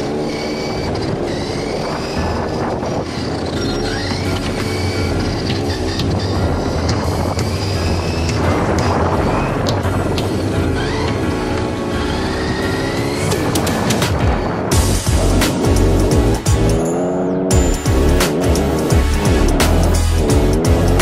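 A Capo Skyline R34 radio-controlled model car drives hard, its electric motor whining up and down in pitch with a continuous loud drone and no talking.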